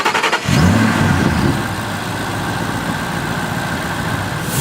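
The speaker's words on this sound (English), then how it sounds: "Now start up the car." A car fitted with a Corsa performance air intake cranks and fires up with a brief rising rev, then settles into a steady, loud, close idle with a throaty drone, with no talking.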